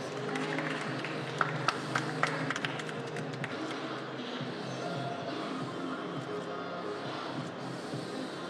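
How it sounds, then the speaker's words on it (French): An audience applauds a competitor at a coffee-and-spirits championship final, steady mid-level clapping mixed with crowd murmur and a few sharper claps, continuous throughout. "Allez, on l'encourage, messieurs, dames, on l'applaudit."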